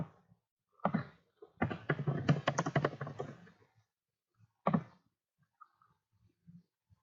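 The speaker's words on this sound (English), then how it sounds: "type in the dollar amount you want to charge" Keystrokes on a computer keyboard while a fee amount is entered into clinic billing software: a lone tap, then a quick run of close, fairly loud clicks, another short burst, and faint scattered taps in a quiet room.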